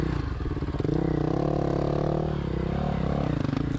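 A KTM 450 Rallye Replica motorcycle rides past close and loud, its single-cylinder engine droning steadily with shifting pitch as it revs, with clattering off-road rumble throughout.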